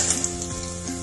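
Nethili anchovies sizzle and fry steadily in hot oil, a dense continuous crackle close by with no talk over it.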